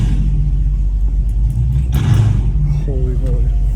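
A loud, deep rumble from a 797hp Dodge Hellcat Redeye engine, close and continuous, with an excited voice briefly exclaiming over it.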